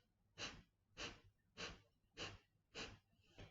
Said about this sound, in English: I will take one inhale to start, but then the exhalations I will force but not inhale